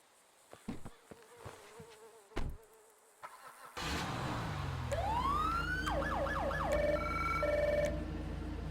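A police car siren in the video game GTA 5 starts up after a few soft clicks and thuds, then wails and yelps loudly in rising and falling sweeps over a steady engine drone.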